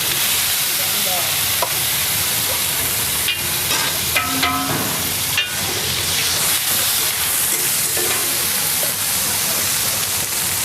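Garlic paste and onions fry in hot oil on a large tava for pav bhaji at a street stall in Talala, giving a loud, continuous sizzle with scraping and stirring clatter throughout.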